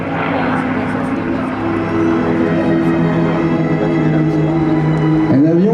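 A P-51 Mustang propeller plane flies at the 2009 Le Bourget air show, its piston engine a loud, steady, droning roar that holds close and shifts pitch near the end, with a commentator talking over it.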